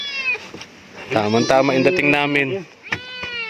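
A cat in a mountain home meows several times up close, long rising and falling cries mixed with people talking nearby.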